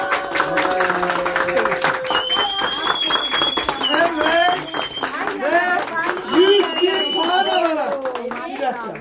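An audience applauds in a celebratory setting with a young child, producing steady clapping under loud, continuous talk from an adult voice.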